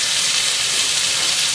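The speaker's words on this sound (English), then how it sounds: "we've got our sizzling burger on there, and we've also got a slice of bacon" Burger patty and bacon sizzling on a grill, a steady close-up hiss of frying fat that holds evenly throughout with no talk.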